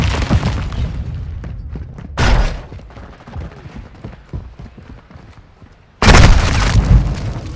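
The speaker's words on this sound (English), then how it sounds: "Grenade!" Grenade explosion in Call of Duty: Modern Warfare II, two heavy blasts striking apart from each other, the second louder and longer, amid scattered thuds of combat.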